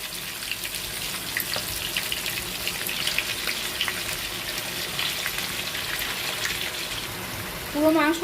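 Chicken pieces fry in a kadai over medium heat, making a steady, fairly faint sizzling hiss that runs the whole time. A voice comes in briefly at the end.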